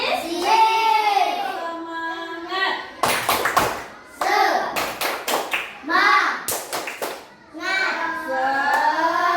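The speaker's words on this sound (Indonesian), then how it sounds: "Kalian masih ingat dengan tepuk semangat?" A primary school class does the rhythmic 'tepuk semangat' routine: children chant together between bursts of patterned group claps, with short sharp clapping clusters alternating with voices.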